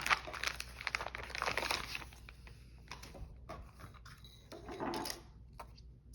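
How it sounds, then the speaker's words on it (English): A plastic package from a junk journaling supply haul is cut open and handled up close, giving irregular crinkling and rustling bursts with short pauses and softer handling noises between them, no speech. "Okay, I've cut the package open"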